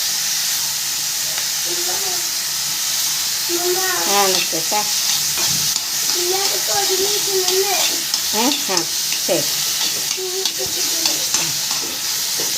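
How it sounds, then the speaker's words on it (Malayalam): Scraped-out drumstick pulp sautés in a pan with a steady sizzling hiss and frequent scraping strokes of stirring. A voice speaks intermittently over the frying. "ശേഷം നന്നായി വഴറ്റുക."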